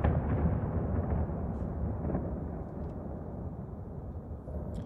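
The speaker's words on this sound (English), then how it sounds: "it sounds as though there are some large explosions." Large explosions near Kyiv in wartime footage, heard as a continuous heavy, booming rumble that stays loud throughout, with faint cracks on top and no talking.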